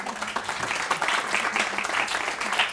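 Audience applause at a talk on creativity, a steady, moderately loud wash of many hands clapping that continues throughout without voices on top.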